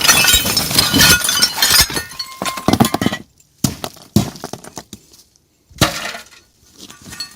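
Glass shards clink and shatter at a forest dump, with sharp crashes and tinkling bursts separated by short silent gaps, close and loud.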